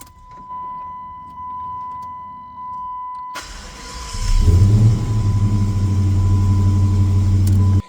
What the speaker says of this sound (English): then we'll fire it up, and hopefully within a few seconds she starts to sound normal